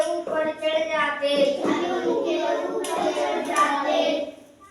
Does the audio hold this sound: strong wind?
no